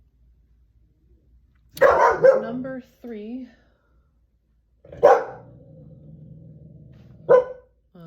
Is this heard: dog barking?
yes